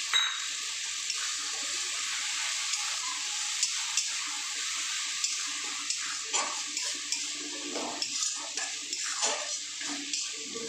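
Green peas sizzling in a wok of mustard-paste rohu fish curry, a steady frying hiss with scattered stirring scrapes and clinks, close and alone with no talk.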